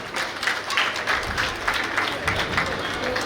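Sustained applause from a festival audience at a Ganapati celebration in Estonia, dense and steady clapping over a murmuring crowd, with voices faintly mixed in throughout.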